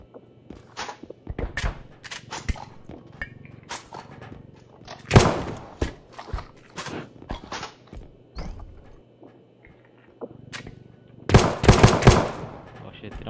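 Gunfire in the video game R.E.P.O., coming as scattered sharp shots and clattering bursts, some in rapid clusters, mixed with thumps and game noises while players talk.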